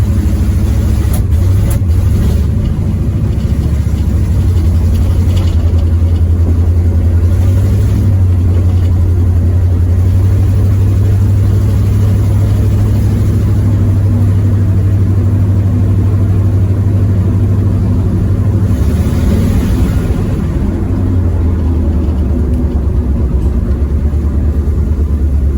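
A 1973 Firebird V8 with a lean-running carburetor fault, heard up close as a loud, steady, continuous engine roar with slight swells in pitch and no voices over it.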